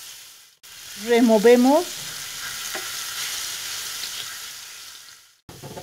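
Garlic frying in hot oil for an escabeche de pollo, a steady sizzle with a brief burst of stirring scrapes near the start, then a softer even crackle; one short spoken word.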